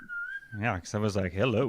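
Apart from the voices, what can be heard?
pet bird whistling in the background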